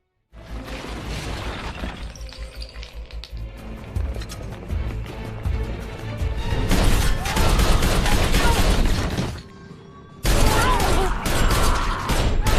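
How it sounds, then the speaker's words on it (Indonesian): A police shootout in the Hitman film plays out in bursts of rapid gunfire, shattering glass and crashing impacts, loud and dense, with a short lull before a final intense volley. "Dan akhirnya baku tembak pun terjadi."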